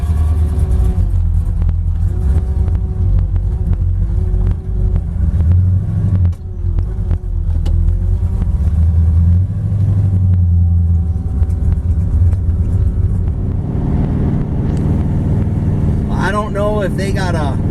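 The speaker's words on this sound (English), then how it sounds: "The whine you're hearing there is actually the Holley electric fuel pump they got on the back of it." A Holley electric fuel pump mounted at the rear of a 1979 Dodge Magnum with a big-block 383 Mopar engine. It gives off a thin, wavering whine over the car's deep, constant engine rumble, which stays loud and close throughout.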